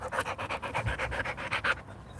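A dog pants rapidly and evenly close by, around a dozen quick breaths in a steady rhythm that fades off toward the end, with no talking.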